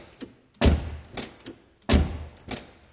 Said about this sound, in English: This is a heavy, real deal door, man.